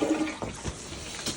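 A household toilet flushing in a master bathroom, a short rushing wash of water with a gurgling surge, heard close and fairly loud with no talk over it.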